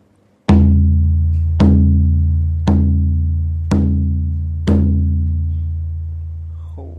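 Tewenkan, a traditional frame drum, struck in a studio: five deep, resonant booms spaced about a second apart, each ringing and slowly decaying, loud and close with no talking.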